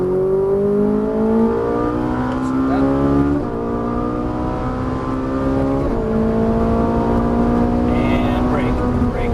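Ferrari 458 Italia V8 engine pulling hard on a racetrack, rising harmonic whine climbing through the revs with a shift near the midpoint, steady and loud throughout, with an instructor's voice talking over it.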